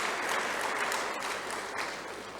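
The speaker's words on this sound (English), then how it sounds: "Let us give him a round of applause." A conference audience at an opening ceremony gives a round of applause, dense continuous clapping filling the hall at an even level with no speech over it.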